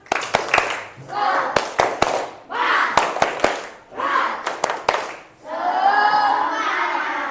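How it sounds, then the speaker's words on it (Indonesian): Schoolchildren in a classroom perform a rhythmic spirit clap chant: repeated bursts of sharp, quick claps mixed with group chanting voices, each burst separated by short pauses, ending in a longer shouted cheer. "Semangat yuk, semangat dulu, tepuk semangat."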